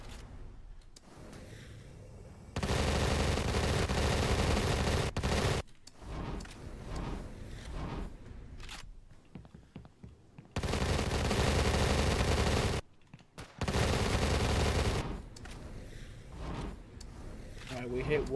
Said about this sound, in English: Boy was getting shot with the Gatling gun.